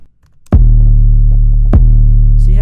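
Trap-style beat with no sidechain, where a deep booming 808 bass and kick hit together twice and swell, the low tones overlapping and ringing loudly after each hit.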